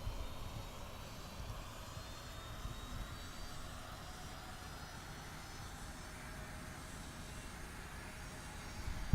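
An Aerosoft CRJ-900 jet engine spooling up during startup in the MSFS 2024 flight simulator, a faint, steady low rumble with a thin whine above it, no speech.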